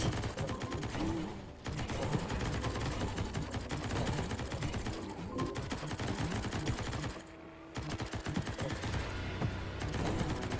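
Rapid-fire weapon in a gnome-themed video game, a dense continuous stream of loud shots with brief pauses and a steady rumbling background.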